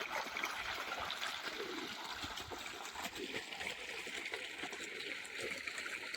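Water gushing from a motor pump outlet in a farm field, a continuous splashing, trickling flow heard close up at moderate level without pause.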